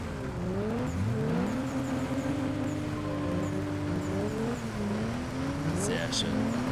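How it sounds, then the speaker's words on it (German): Porsche race car in a racing video game idling and revving at the start line, a steady engine drone with rising and falling pitch sweeps, heard under ongoing commentary. "So, der Porsche steht an der Startlinie."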